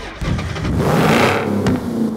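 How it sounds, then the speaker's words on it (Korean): A 5.7-litre V8 Chevy engine in a high-speed farm tractor catches and settles into a loud, steady, throaty roar that stays close and continuous throughout. "제가 시동 한번 켜볼게요. 스타트."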